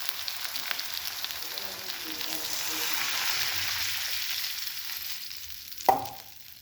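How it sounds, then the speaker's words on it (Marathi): Water is poured into a hot Marathi tempering of oil and turmeric for green chili pitla, giving a soft, continuous sizzle and bubbling that swells gently and ends with a sharp clink near the close. "तर त्याच्यामध्येच मी आता पाणी ओतून घेणार आहे।"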